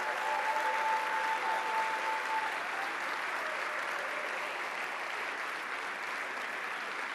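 Loud, continuous audience applause at an economy and development award ceremony in Friuli Venezia Giulia, a steady roar of many hands clapping together that stays dense and even throughout.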